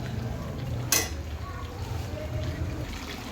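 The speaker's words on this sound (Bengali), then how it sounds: "আলুগুলো দিয়ে আমি আর একটু কষিয়ে নেব ভালো করে" Chicken and potatoes being stirred and fried in a pan, soft sizzling with a single sharp utensil clink against the pan near the start, faint and close.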